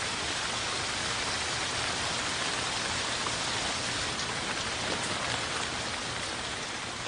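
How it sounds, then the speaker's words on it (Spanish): Heavy, torrential rain pours steadily, a dense unbroken hiss of countless drops striking surfaces, with no voices. "todo cambia cuando se trata de lluvias torrenciales"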